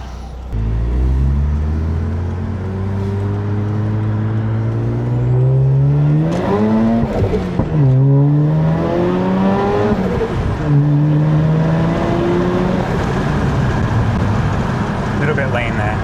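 Turbocharged Mazda RX8 running a 29% ethanol blend at about 15 PSI of boost, engine note climbing loudly through a full-throttle pull with a brief dip partway through before rising again, close and continuous.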